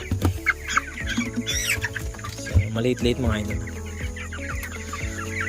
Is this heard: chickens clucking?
yes